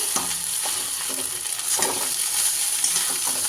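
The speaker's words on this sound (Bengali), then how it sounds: "আর 2-3 মিনিটের মতো একটু এইভাবে করে ভেজে নেব, চিনিটা গলা অবধি" Leftover cooked rice and sugar fry in a pan, sizzling steadily while a spoon scrapes and stirs in several distinct strokes, close and clear with no talking.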